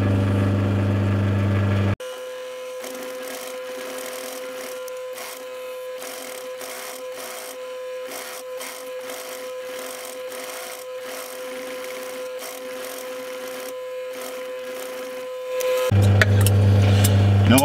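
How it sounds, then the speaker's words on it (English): A sewing machine runs steadily for about fourteen seconds, stitching piping and edge banding onto a footstool seat pad top, with a constant mechanical whir and a faint steady hum that stop abruptly near the end. "I'm going to start sewing on the piping and the edge banding onto"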